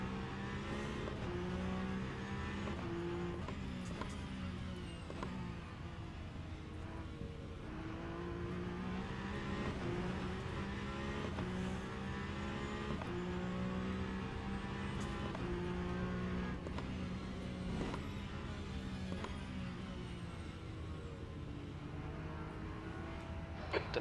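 Race cars lap Sebring in a classic WEC sim racing game, a steady close engine drone with revs rising and falling through gear changes, continuous and without talk.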